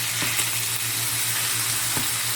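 Ground meat for a keto shepherd's pie fries over turned-up heat in a pan, a steady close sizzle with a few soft scrapes as it is mixed, no talk.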